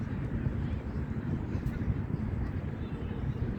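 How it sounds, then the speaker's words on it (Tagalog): Strong wind in Mishref, Kuwait buffets the microphone in a steady, low, rumbling roar that never lets up. "Ang lakas ng hangin."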